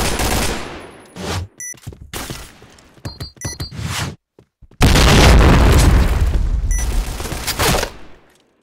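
Loud booming blasts and rapid gunfire bursts from a tactical shooter game round after a bomb is planted, heavy explosive bursts alternating with short gaps and then a long sustained roar.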